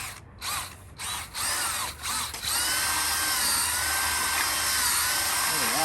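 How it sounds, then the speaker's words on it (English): A power drill spins a Deflecto dryer duct cleaning brush, starting with a few short stuttering bursts and then settling into a loud, steady whir close by. "so I have my drill spinning clockwise, so hopefully it won't unscrew this time"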